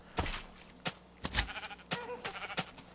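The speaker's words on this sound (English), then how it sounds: "that's a sheep" Sheep in the Minecraft video game bleat several times in short wavering cries, close and clear, mixed with a few soft thuds.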